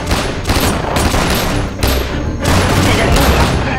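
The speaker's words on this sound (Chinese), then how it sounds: "前面射击！" Dense gunfire from a kung fu war film battle, a sustained roar of bursts and shots with a few louder cracks and a brief lull midway, loud and close throughout.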